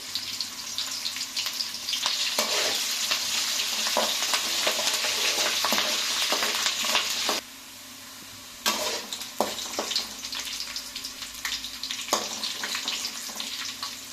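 Onions sizzle in hot oil with fenugreek seeds, coriander seeds and curry leaves for a Nellore-style fish curry. The bright, steady frying hiss is broken by a brief quiet gap, and occasional stirring scrapes sound up close without talking.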